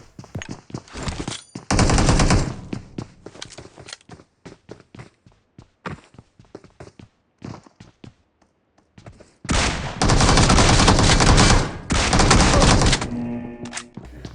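Gunfire in the BGMI battle-royale game: loud sustained automatic bursts around two seconds and again from ten to thirteen seconds, separated by scattered single shots and footstep-like taps, with no voices.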